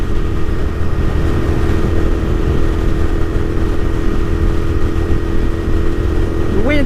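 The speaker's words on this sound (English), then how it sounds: "There's certainly wind" Wind rushing and roaring past a rider on a Royal Enfield Continental GT650 twin cruising at 120, loud and steady with the engine droning beneath, and a short whistling sweep at the end.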